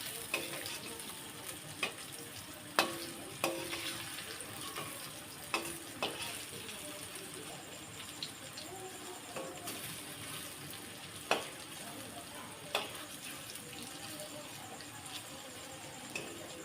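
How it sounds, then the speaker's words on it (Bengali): Pieces of pumpkin and potato barfi fry quietly in oil and are turned one by one, a soft steady sizzle broken by occasional light taps and clicks of the utensil against the pan. "এক পিঠটা ভাজা হয়ে গেছে আর এক পিঠটা উল্টে দেবো"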